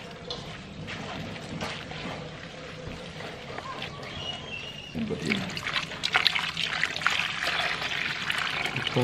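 Water trickles and pours steadily while coconut oil is being made by hand with a Balinese family in Bali, a continuous liquid splash that grows louder in the second half, with faint voices and background sounds.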